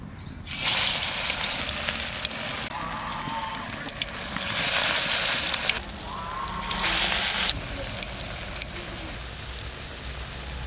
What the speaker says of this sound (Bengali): সাদা তেল কান তেল এবার আমি তেলের মধ্যে ছাড়বো